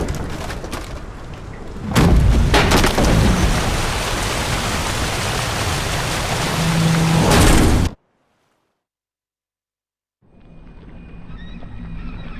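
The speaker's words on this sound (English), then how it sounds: "Didn't bargain for no storm." Heavy rain and a thunderstorm in The Witcher 3: Wild Hunt, Hearts of Stone, roar as a loud wash of noise with rumbling swells, cut off abruptly by silence before a quieter ambience returns.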